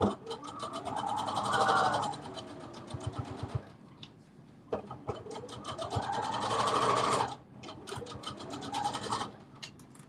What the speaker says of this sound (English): So I have my serger out just in case I need to serge the sides off.